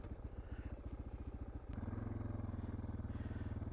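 Suzuki DR650 dirt bike riding in grass, its single-cylinder engine thumping steadily and then rising to a louder, smoother drone partway through, heard close from the rider's position.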